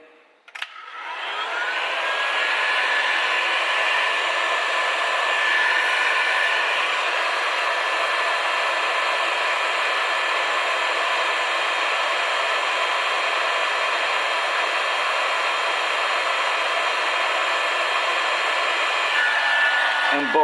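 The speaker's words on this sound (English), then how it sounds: "we're going to heat it up with the hot air gun" A hot air gun blows steadily to shrink heat-shrink tubing over a repaired wire on a Lambretta or Vespa scooter stator, a close, continuous whooshing roar that stays level for about twenty seconds.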